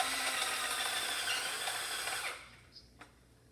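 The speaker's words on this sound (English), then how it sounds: "My drill is running out of batteries." A cordless drill with a low battery whirs loudly and steadily for about two seconds, then cuts off, followed by a couple of faint clicks.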